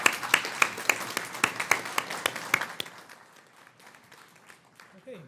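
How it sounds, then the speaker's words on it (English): Brief applause in a courtroom for military veterans: a handful of distinct, fairly sharp claps in an uneven rhythm that thins out and fades after a few seconds, leaving quiet room tone. "we give a round of applause to the people who've served our country"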